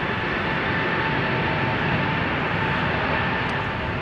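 Jet airliner at Amsterdam Schiphol Airport, a steady broadband roar of engines and rushing air holding at constant loudness throughout, with no voices.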